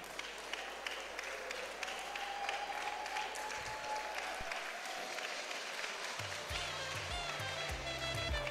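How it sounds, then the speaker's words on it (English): An audience applauds Sir Andy Egonmwan at a university valedictory ceremony, with continuous, even clapping from a sizable crowd filling the room, joined near the end by a low musical hum. "let's give a round of applause to him"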